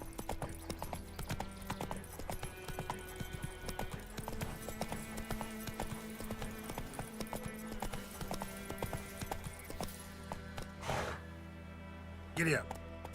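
Horse galloping in The Witcher 3, a quick continuous clip-clop of hooves with a faint whinny, someone talking over it and a couple of sharp bursts near the end.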